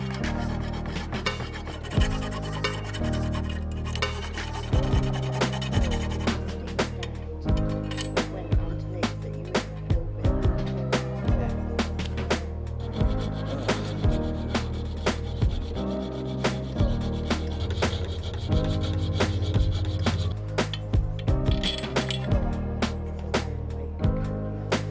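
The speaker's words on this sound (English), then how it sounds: "I had to file a square hole to be able to tighten them" Hand file rasping a square hole in steel, a continuous, loud, rhythmic scraping of back-and-forth strokes with dense metallic texture throughout, no voices.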